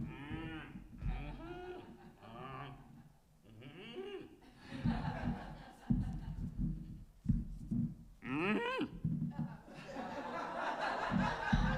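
A storyteller at a storytelling festival imitates a cow mooing with drawn-out, wavering vocal lows, repeated several times between bursts of audience laughter and chuckling.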